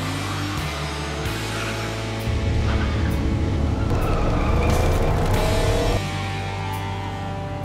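A 1984 third-generation Camaro with a carbureted 350 V8 accelerating hard, engine roaring loudly with tire squeal and skidding, building to a peak then easing off over several seconds.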